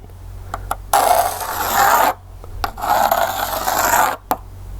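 A builder's pencil sketches a heart shape on a mosaic backing board, giving two long, close, scratchy scraping strokes separated by short taps and pauses.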